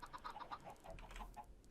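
Chickens in the Minecraft video game cluck in a quick run of soft, repeated calls, faint and close together over light background noise, with no talking.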